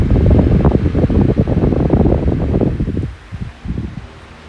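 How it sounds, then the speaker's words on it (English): An Impress electric fan with a blue blade starting up and running at medium power, giving a steady, loud whooshing rush of air with a faint whine that eases off toward the end. "The Impress with the blue blade startup sound and the whine, using the blue one, not the black one, running at medium power."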